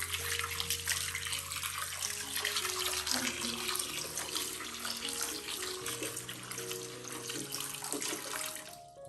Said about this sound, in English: And finally pour water to cover the eggs in the basin.